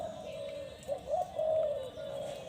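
A spotted dove coos in a short soft phrase of a few rounded notes, fairly close, over a faint steady background hum.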